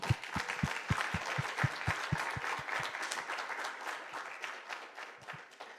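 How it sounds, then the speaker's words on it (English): Industrial engineering conference audience applauds after a presentation. A few sharp, close claps stand out over a steady patter of many hands, and the sound gradually thins and fades toward the end. "Round of applause."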